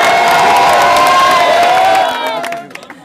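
A crowd at an outdoor comedy contest cheers and applauds a performer, a loud sustained roar that fades out over a few seconds.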